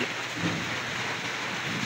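Steady early-morning rain falling hard at about 4 a.m., a dense, continuous hiss of drops on surfaces with no pauses.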